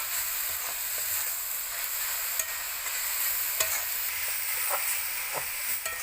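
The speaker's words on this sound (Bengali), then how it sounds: "আবারও 2 মিনিট নেড়ে নিচ্ছি।" Grated coconut filling with dry fruits is stirred in a frying pan, a continuous soft sizzle and hiss with scattered scraping ticks of the spoon, steady and moderately quiet with no voices.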